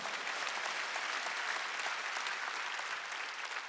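A church congregation at a Korean Wednesday worship service bursts into sustained, dense applause, a steady crackling wash of many hands clapping at once that holds evenly throughout, with no talking.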